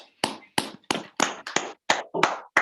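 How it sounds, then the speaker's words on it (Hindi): A Hindi-language workplace recognition event celebrating with the CEO: a burst of clapping that swells and pauses in several loud, separated waves, close and dense, with no talking over it. "तो एक जोरदार तालियां लता जी के लिए"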